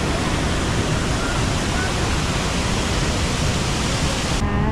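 Cold waterfall at the Itapecuru twin falls, a steady broadband rush of falling water that fills the whole clip evenly, close and constant with no voices.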